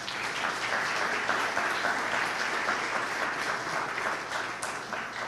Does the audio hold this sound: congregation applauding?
yes